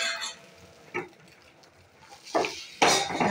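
Appam batter being swirled around a large appam pan, heard as a few scattered metallic scrapes and clanks of the pan, with quiet stretches between them and a louder clatter near the end.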